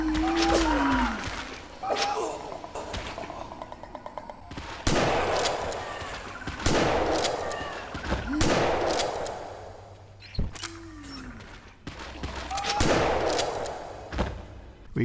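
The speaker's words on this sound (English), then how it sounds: "It was a combination of stealth and shooting them in the face with a shotgun." Shotgun blasts and creature noises in the stealth horror game Gloomwood, with several loud broadband booms spaced a few seconds apart, plus growls and some talk mixed in.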